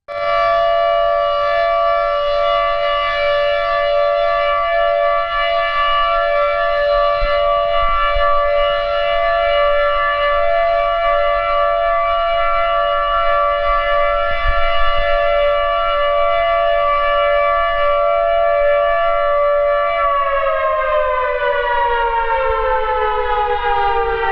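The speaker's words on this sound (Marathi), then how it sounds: "मौन पाळण्याची सूचना देणारा सायरन वाजविण्यात आला" A loud civil defense siren signalling a two-minute silence on Martyrs' Day in Amravati wails at a steady, unbroken pitch for over twenty seconds, then its tone slides downward near the end; no voices.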